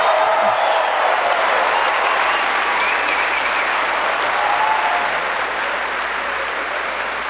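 An enthusiastic crowd at a Ron Paul rally in Minneapolis claps steadily, a loud, dense wash of applause that fills the whole stretch without letting up.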